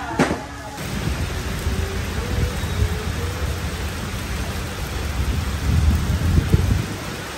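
Heavy rain pours in Kota Kinabalu, Sabah, Malaysia, as a thunderstorm passes. A sharp noise opens the sound, then a dense, steady downpour follows with low rumbles of thunder building toward the end.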